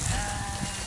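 Sheep on an open savanna grassland give a single loud, close bleat that fills the moment, with no speech.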